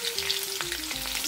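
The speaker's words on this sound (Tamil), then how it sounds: "கடுகு வெடிக்கிறது." Mustard seeds tempering in hot oil in a pan sizzle and splutter continuously up close, with faint crackles and a low tonal hum underneath and no talking.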